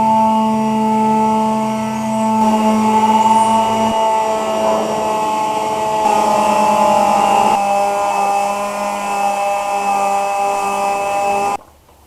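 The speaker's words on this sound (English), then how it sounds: "I'm gonna sand that stuff down," A power sander works over rough pine wood, making a loud steady whine that drones on throughout and cuts off abruptly at the end.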